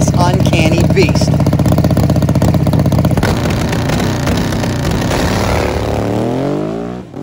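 Harley Davidson street tire drag motorcycle making a 7-second run, a loud sustained engine roar at full throttle that holds steady, then winds down and fades as the bike finishes its pass.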